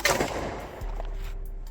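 A thin magnesium wire blasts apart in a 4,000-joule exploding wire machine: one sharp, loud crack at the start, followed by a fading rumble and a low steady hum.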